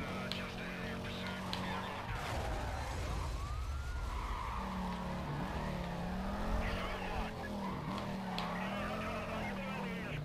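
A police car siren wails through a Need for Speed Carbon chase, its rising and falling tone layered over roaring engines and tire skids, with someone talking over the action.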